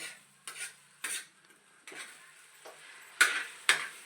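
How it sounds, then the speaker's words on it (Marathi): A spoon stirs onion into an egg chutney in a pan as a little girl cooks, with about seven distinct scraping strokes at a steady, unhurried pace, close and clear with no talk. "हळूहळू स हलव आता सगळीकडं कांदा मिक्स कर"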